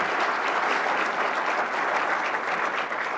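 Young scholars receive warm audience applause, a steady, even wash of many people clapping that holds at constant strength throughout, with no voices on top.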